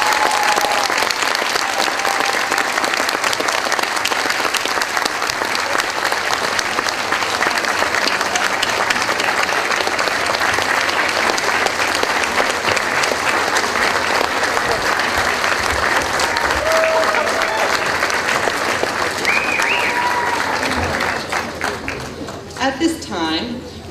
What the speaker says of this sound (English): Please give our graduates a round of applause.